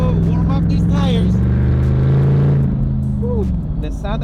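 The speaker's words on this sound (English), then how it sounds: "The sound of this exhaust, must say, is the best part of this car." A McLaren SLR's exhaust growls loudly and close as the engine revs and pulls away, a deep sustained roar rising and falling over several seconds, with a voice partly overlapping.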